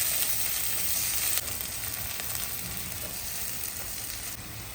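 Homemade dal frying in a pan sizzles in a steady, dense hiss, fairly close and without talk, with a slight drop in level partway through as it is mixed.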